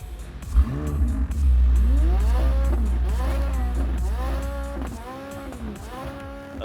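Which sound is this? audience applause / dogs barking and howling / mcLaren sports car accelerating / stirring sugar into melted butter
mcLaren sports car accelerating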